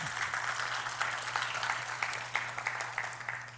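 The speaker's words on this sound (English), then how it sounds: "Once again, a round of applause for Professor Mycoo." An audience at a professorial inaugural lecture applauds the new professor, a soft, distant spread of clapping from a seated hall under a low steady hum, continuing evenly throughout.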